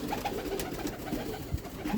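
A Teddy Golden breeder pigeon from Sialkot coos softly in repeated low, throaty phrases, steady and close against a faint background hum, with no voices.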